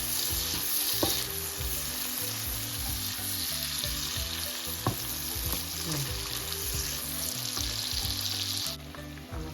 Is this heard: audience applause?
no